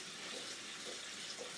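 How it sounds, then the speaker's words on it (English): Cold tap water sprays steadily onto cooked macaroni, a continuous close hiss of running water with no breaks. "I get cold water, and I spray it down with cold water"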